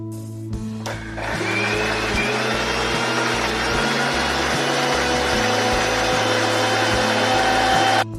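Electric blender grinding green chillies with poppy seeds and a little water into a smooth paste for mustard prawns, a loud steady motor whir with rhythmic pulsing, running close and alone throughout.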